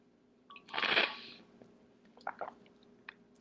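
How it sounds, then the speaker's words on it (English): A person drinks water, a short wet gulping and swallowing burst up close followed by a few faint sips and small mouth clicks over quiet room hum. "I'm going to drink some more water."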